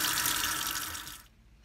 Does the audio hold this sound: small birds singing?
no